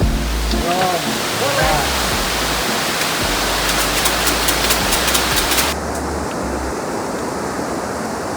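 Steady heavy rain pouring as a loud, dense wash of noise, with brief voices and faint clicks mixed in before the sound drops slightly near the end.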